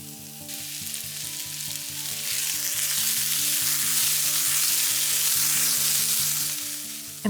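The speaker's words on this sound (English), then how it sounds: "In this hot cast iron pan with some olive oil, I'm frying up our yellow onions and our Impossible ground." Yellow onions and Impossible ground sizzle loudly in olive oil in a hot cast iron pan, a steady, close frying hiss that swells slightly midway and carries on without pause.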